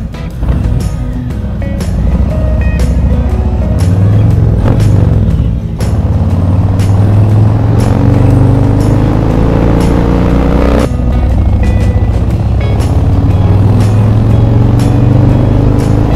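Ducati Scrambler 1100 motorcycle on its first ride, a loud continuous engine drone with rising and falling pitch as it accelerates and shifts, heavy wind buffeting throughout, no voices.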